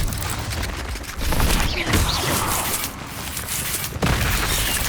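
Incendio fire spell cast again and again in Hogwarts Legacy, bursting in loud whooshing blasts over busy battle noise, with a sharp burst near the middle and another toward the end.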